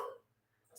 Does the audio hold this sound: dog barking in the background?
yes